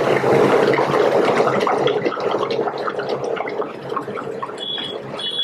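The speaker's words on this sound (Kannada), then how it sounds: "ನೋಡಿ ಅದರಲ್ಲೇ ಈಗ ಒಂದು 10 ಲೀಟರ್ ಅಷ್ಟು ನೀರು ಹಾಕೊಂತ ಇದ್ದಾರೆ" About ten litres of bottled water rushes into a large pot for chicken sherva in a biryani hotel kitchen, a steady, close pouring and splashing that slowly softens, with faint clinks near the end.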